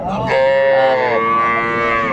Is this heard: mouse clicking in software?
no